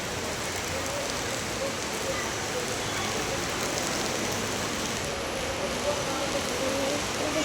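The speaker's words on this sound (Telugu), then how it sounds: "వర్షం అయితే పడింది, ఎంత దారుణంగా పడింది" Heavy, steady rain near a temple in a flooded area, a dense continuous hiss of drops on surfaces that stays loud and even from start to finish, with no clear voices.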